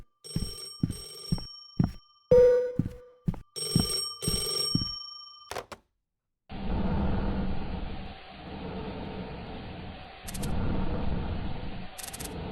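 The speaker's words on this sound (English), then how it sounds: "Oh, the phone's ringing." Telephone ringing inside a house, a run of loud, close electronic rings in quick pulses followed by sharp clicks, then a steady hiss like a phone line continuing afterward.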